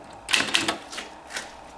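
Keys clack on a 1963 Princess 300 typewriter, a short burst of a few sharp mechanical strikes, close and loud, in a quiet room.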